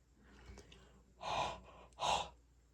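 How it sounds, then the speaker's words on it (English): Two slow, close, breathy exhalations, hot breath pushed out onto an HO scale model train car being weathered, each a soft rushing puff separated by a brief pause in an otherwise quiet setting. "If you take it and you breathe your breath onto it like a hot breath"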